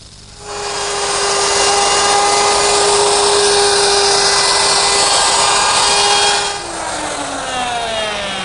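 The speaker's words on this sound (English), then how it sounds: "Now I'm going to change to a 1/4-inch bit and readjust the radius to cut the groove for the wall." A router fitted with a 1/4-inch bit cuts a groove in wood while building a marble catcher, a loud, steady high-pitched whine holding for about six seconds before dropping in pitch as the tool spins down.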